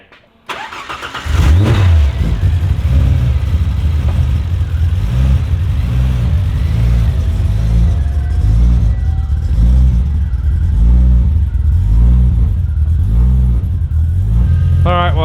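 A Ford Fairlane drag car starts and warms up, its big engine catching and then idling loud and close with a lumpy, rhythmic rumble and occasional revs, while people talk faintly nearby.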